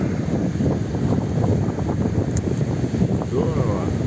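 Strong wind blows over the sea, buffeting the microphone with a close, continuous, gusty rumble that barely lets up for the whole stretch.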